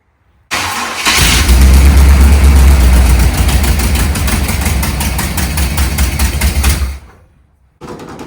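A Vortec 350 V8 fed by a small electric fuel pump fires up and runs roughly for about six seconds, a loud, close, throbbing idle with a deep low rumble, then cuts out abruptly before briefly catching again.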